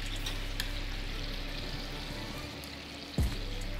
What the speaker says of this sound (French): Donc là, on arrose avec du jus, pour que ce soit un peu laqué à la cuisson au four.